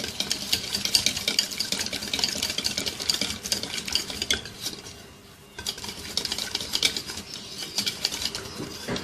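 Spices and masala ingredients mixed by hand for a Mughlai chicken dish, with continuous close scraping and stirring against a dish, dense, steady and loud, pausing briefly midway before resuming.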